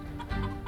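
A black chicken in the game Murders on the Yangtze River gives a short burst of clucking, a few quick close clucks, heard on their own with no talking.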